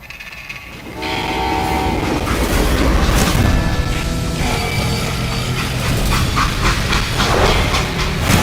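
A freight train in the Call of Juarez: Gunslinger video game rolls loudly along the tracks, a dense rumble with rhythmic wheel clatter and a horn-like tone, starting from quiet and then staying strong and continuous.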